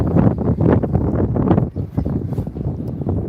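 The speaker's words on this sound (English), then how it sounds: "It's pretty windy up here." Strong wind at the Snow Trails ski area buffets the microphone, producing a loud, low, rumbling roar that gusts unevenly throughout.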